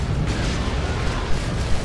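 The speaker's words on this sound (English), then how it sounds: "Lots of explosions going on." Battlefield explosions in Warhammer 40,000: Dawn of War 2, in a Faction Wars match of Ordo Malleus against Chaos forces: a dense, continuous low rumble of blasts with a few sharper booms rising out of the din, and no voices.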